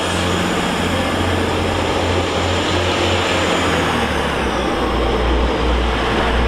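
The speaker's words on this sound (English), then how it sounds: "185147 is now leaving from Manchester Piccadilly to Cleethorpes" A TransPennine class 185 diesel train, unit 185147, pulling out of Doncaster station, a loud steady engine drone and rumble that holds throughout and deepens slightly toward the end.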